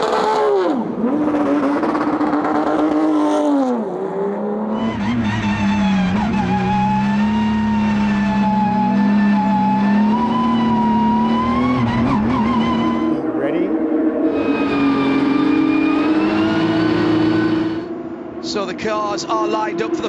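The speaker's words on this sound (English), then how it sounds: "Start engines. Start engines." Loud Porsche 992 GT3 Cup race car engines starting, roaring and revving with rising and falling pitch at Road Atlanta, tires squealing, while a voice talks over the din.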